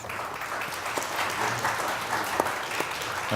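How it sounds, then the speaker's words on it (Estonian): A crowd at an Estonian environment minister candidates' debate applauds steadily, a dense patter of clapping hands at moderate volume throughout. "Aplaus."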